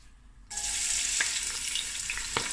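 Onions dropped into a pot with blade beef burst into a loud, close sizzle that holds steady, with a couple of faint clinks and stirs in the hiss.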